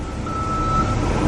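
A construction vehicle gives a single steady reversing beep, clear over a low rumble of site noise.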